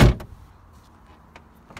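A single car door thuds shut on a 2007 MINI Cooper Clubman, loud and close at the start, followed by faint small clicks and rustles.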